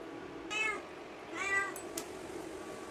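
A cat meows twice, about a second apart, each a short rising-and-falling call, close by in a quiet room.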